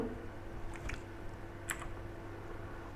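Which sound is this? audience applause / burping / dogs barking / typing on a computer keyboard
typing on a computer keyboard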